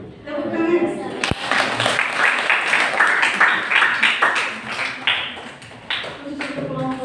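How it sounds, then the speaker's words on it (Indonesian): Classroom applause after a student group's accounting presentation: a sustained burst of many hands clapping, loud and dense across several seconds, with voices chattering underneath and a single sharp knock near the start. "Tepuk tangan."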